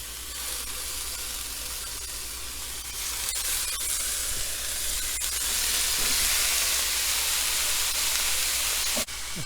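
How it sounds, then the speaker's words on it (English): Meatballs brown in a dry, preheated cast iron pan over medium-high heat, producing a steady, loud hissing sizzle that swells slightly midway, with a brief clatter near the end and no voices. "I'm gonna start browning the meatballs"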